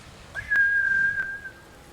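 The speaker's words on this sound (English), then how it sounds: "his whistle and his facial animation when he whistles" In Ghost of Tsushima, Jin whistles one clear, sustained note of about a second and a half that falls slightly in pitch, close and alone over faint background sound.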